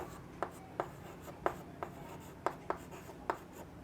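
Chalk or marker tapping and scratching out a math formula on a classroom board, a series of faint, evenly spaced short strokes over low room noise.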